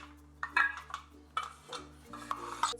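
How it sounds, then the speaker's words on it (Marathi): Metal idli mould plates for ragi idli are rubbed with oil, giving a series of light metallic clinks and scraping taps close by, with soft tonal music underneath. "आपण जे इडलीचे भांडे खाळे आहेत त्यांना तेल लावून घेऊया"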